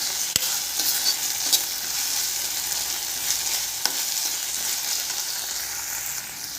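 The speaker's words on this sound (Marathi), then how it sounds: "आता त्याच्यामध्ये बारीक चिरलेला टमाटा घालायचा. आणि छान परतून घ्यायचं व्यवस्थित." Finely chopped tomato sautéing in a hot pan while making Punjabi chole, a steady close sizzle and frying hiss running throughout with occasional scrape and clack of a stirring spoon.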